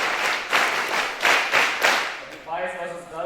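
An assembly audience at a school National Librarian Day event claps in unison on cue, a few strong bursts of applause, then a voice begins speaking as the clapping fades.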